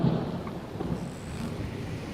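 Storm sound effect of thunder and wind at sea, a dense low rumbling roar with gusting noise that holds steady throughout, no voices.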